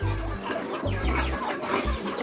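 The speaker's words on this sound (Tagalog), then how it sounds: "So daghan po tayo tag mga manok diri no." Chickens on a pig farm cluck steadily and close by, dense overlapping clucks and calls over a constant low rumble, with no break in the noise.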